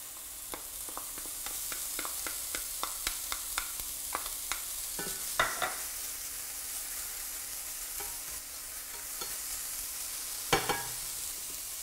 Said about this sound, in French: nous versons les champignons. Nous allons les faire cuire environ 5 minutes.